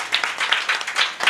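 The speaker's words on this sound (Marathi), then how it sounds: "त्यांच्यासाठी सुद्धा एकदा आपण टाळ्या वाजवू" A kirtan audience claps and applauds in a brief, fairly faint burst of uneven, overlapping hand claps.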